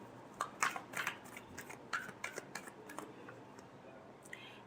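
A deck of tarot cards is shuffled in quiet, irregular bursts of light papery clicks and riffles, with faint background noise.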